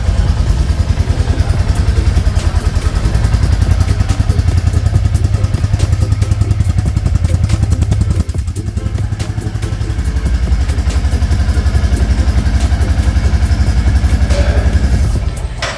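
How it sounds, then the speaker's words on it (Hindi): A 2024 Royal Enfield Classic 350 Dark Stealth Black single-cylinder motorcycle thumps at a steady idle close by, a loud rapid pulsing exhaust note that dips briefly midway before resuming, with no talking. "तो चलिए अब स्टार्ट करके मैं दिखाती हूँ बाइक को।"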